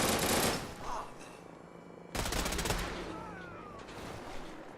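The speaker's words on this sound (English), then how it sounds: "Who's shooting?" Rapid gunfire bursts in the video game Fallout 4, a loud volley at the start and another sharp burst midway, trailing into a noisy rumble under faint background sound.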